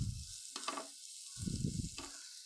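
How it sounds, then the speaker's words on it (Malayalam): Egg, tomato, salt and chili powder being stirred and fried in a pan, giving soft bursts of sizzling and scraping in a few short stirring strokes, quiet and close, with no talk. "അത് നമ്മൾ നല്ലോണം ഇളക്കി കൊടുക്കട്ടോ."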